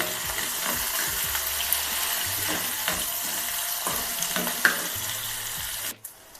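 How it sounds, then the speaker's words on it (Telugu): Crushed onion sizzling in hot oil as it fries toward reddish brown for rasam, a steady crackling hiss with a few sharper pops and faint stirring, ending abruptly. "ఈ ఉల్లిపాయ ఎర్రగా వేగాలి ఫ్రెండ్స్"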